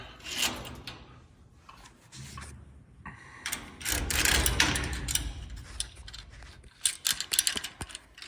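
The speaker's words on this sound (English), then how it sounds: "So we just gotta tighten it down" Tightening a part on a Craftsman garage door opener overhead, with irregular mechanical clicks, scrapes and rattles of tools and metal parts, fairly close and moderately loud.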